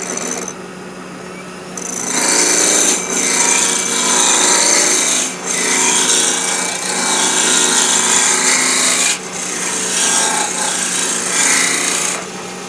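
A wood lathe spins a peppermill blank held in a chuck as a tool rounds it off, giving a loud rasping scrape that runs in long strokes with brief pauses between cuts.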